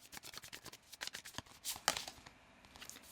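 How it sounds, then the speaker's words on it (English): A tarot deck is shuffled by hand in a quiet room, a rapid run of crisp riffling card flicks and soft slaps lasting a few seconds, close and fairly faint, with no talking. "just going to give it a shuffle and draw 3 cards"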